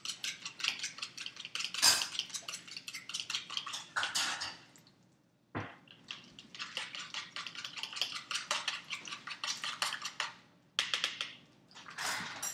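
A utensil clinks and scrapes repeatedly against a metal saucepan in quick, uneven strokes, close by, with a brief pause midway.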